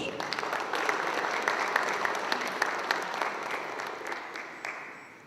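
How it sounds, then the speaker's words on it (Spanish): Audience clapping at an academic lecture after a doctor's presentation. The applause is dense and sustained, a crowd of many hands that carries on for several seconds with a slight rise and fall before it fades, with no voices over it. "pido un fuerte voto de aplausos."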